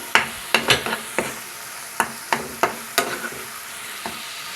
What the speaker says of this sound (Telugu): అలాగే మూడు పచ్చిమిర్చి చీలికలు వేస్తున్నాను దీన్ని నూనె పైకి తేలేంత వరకు కూడా ఫ్రై చేసుకుందాం